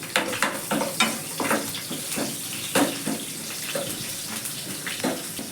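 Chopped onion pieces frying in hot oil in a home kitchen pan for mango dal, a steady close sizzle with bursts of crackle and spatter throughout and no voices.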